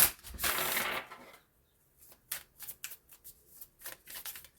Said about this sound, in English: now I'm going to shuffle some oracle cards as well